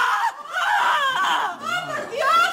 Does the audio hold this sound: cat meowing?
no